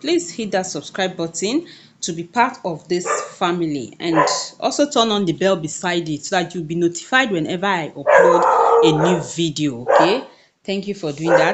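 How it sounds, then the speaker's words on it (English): A dog barks now and then in the background of a home sewing session, largely masked under steady close talking about subscribing to the channel. "Yeah, my dog barking there."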